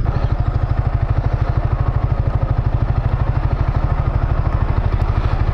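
A motorcycle engine idles close by, a steady low rapid putter with mechanical clatter, running continuously with no voices.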